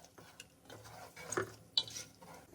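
A spoon stirs yogurt into chicken for Hyderabadi biryani in a pot off the flame, producing soft, close scraping and a few sharper clinks of utensil against metal, fairly quiet overall.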